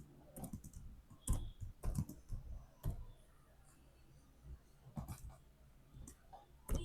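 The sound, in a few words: typing code on a computer keyboard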